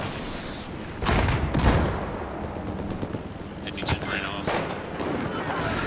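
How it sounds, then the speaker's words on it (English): Battlefield 4 combat on the Flood Zone map: heavy gunfire and booming blasts from RPG fire and explosions, with a dense rumbling volley near the start and sharper cracks later, under a continuous noisy battlefield background. "You're gonna shoot RPGs at me."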